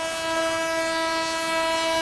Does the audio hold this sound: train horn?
yes